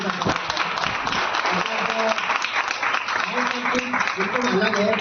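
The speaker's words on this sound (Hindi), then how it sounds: "एक बार 2 बार तालियों" A crowd applauding at a village school teachers' event, dense, continuous clapping that holds steady from start to finish, with voices heard under it.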